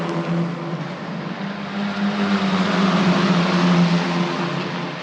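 Italian F4 single-seater race cars at Misano accelerate along the start-finish straight, a loud, continuous high-revving engine drone that rises steadily in pitch and volume as they run close together.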